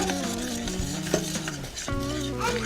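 Thick cream puff dough of flour stirred in a simmering pot, a steady close scraping and slapping of spoon against the pan with soft sizzling underneath, no voices.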